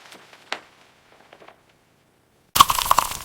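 Crunch of crispy, light cassava-flour batter on fried food, a few sharp bites: a faint crack early, then a loud close crunching burst near the end after a silent gap.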